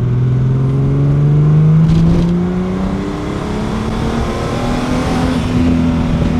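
A car engine revs up toward about 2,000 RPM, the loud, close tone climbing steadily and then easing into a sustained rising drone with a rough mechanical edge.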